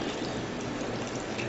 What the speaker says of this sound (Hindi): लेकिन इसमें से हम थोड़ा सा डालेंगे पानी